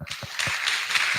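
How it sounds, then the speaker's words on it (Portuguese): Crowd of climbers applauding at a climbing gym gathering, a dense wash of many hands clapping at steady loudness with a few lower thumps mixed in, close and continuous. "E agora uma salva de palmas aí para eles, galera."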